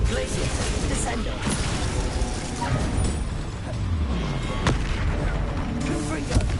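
A Descendo spell goes off in Hogwarts Legacy with a heavy, booming impact amid continuous rumbling combat noise, loud and dense throughout.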